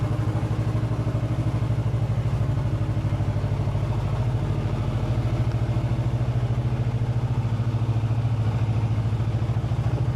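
A motorcycle engine, just repaired with a new crankshaft position sensor, idles steadily close by after starting on the first try, giving an even, rapid low-pitched putter with no talk.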